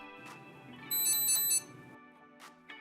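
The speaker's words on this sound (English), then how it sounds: "The Edge device beeps one time when the first vehicle is detected." A single short electronic alert tone from a Garmin Edge bike computer paired with a Varia RCT715 radar rings out on detecting a vehicle: a bright, high triple chirp standing clearly above a steady background hum.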